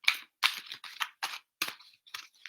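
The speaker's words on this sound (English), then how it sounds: "There's a card that's going to pop out or stand out to me as I'm shuffling here." Tarot cards shuffled by hand during a live reading, making about seven quick, crisp riffling bursts in an uneven rhythm, close and alone with short silences between.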